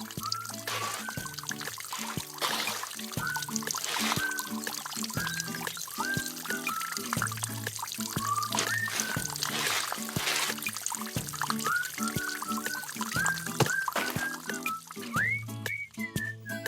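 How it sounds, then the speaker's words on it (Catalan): Rain pours and trickles steadily in an animated cartoon about an apple tree, under bright whistling musical tones that rise and fall in short repeated phrases. "Està plovent i molt!"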